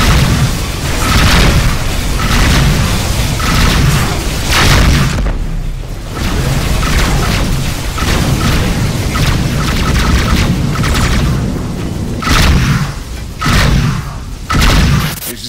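Missiles explode throughout a space combat scene in the video game Rebel Galaxy, with loud, dense booms and rumbling blasts in rapid succession and barely any pause between them.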